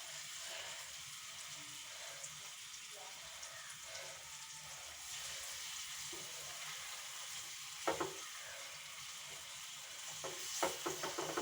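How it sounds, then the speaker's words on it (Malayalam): Dried fish sizzling and frying in a hot pan with oil, a steady bright crackle throughout, with a few sharper spatters and pops near the end; no talking. "അപ്പം നമ്മൾ ഇനി ഓരോ ഉണക്കൽ മീൻ കുട്ടന്മാർ ഇതിലിട്ടൊന്ന് ഫ്രൈ ചെയ്തെടുത്തണ്ടല്ലോ"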